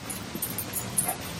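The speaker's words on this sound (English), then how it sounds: "She just wants to bark." A dog indoors gives faint short yips and whimpers over a low background hum, brief and quiet.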